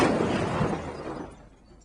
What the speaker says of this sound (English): This is the sound of a car crashing into a parked car at 30 miles an hour.